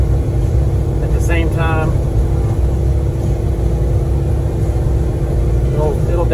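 Peterbilt 330 truck hauling cattle, downshifting downhill with the exhaust brake on: a steady, loud low engine drone and rumble running throughout, with a person talking over it.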